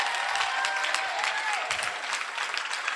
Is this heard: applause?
yes